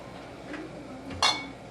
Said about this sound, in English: I heat my deep frying pan,